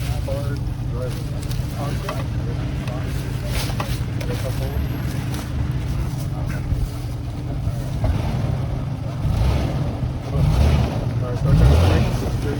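A 3rd or 4th generation Toyota 4Runner driving on an off-road trail, with a steady loud engine and rolling rumble under wind noise and voices talking throughout, growing louder near the end.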